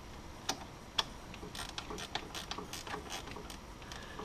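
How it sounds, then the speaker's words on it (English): A ratcheting wrench works on a 12mm bolt during a DSM car build, producing faint, light clicking in a loose sequence with a couple of sharper ticks, no talk. "These are the days that you never question why they made ratcheting wrenches."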